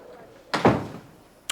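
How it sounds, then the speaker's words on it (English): A door swings shut with a single firm thud followed by a short rattle, close by in an otherwise quiet room, with a second faint knock right at the end. "Please, close the door."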